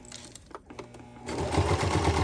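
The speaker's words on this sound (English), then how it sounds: "Let's start with a straight stitch, and she does have the capability to back stitch to lock in our stitches." A Singer 1304 sewing machine runs a straight stitch, a few short tentative bursts followed by a steady, fast, close mechanical whirr and rhythmic needle thumping.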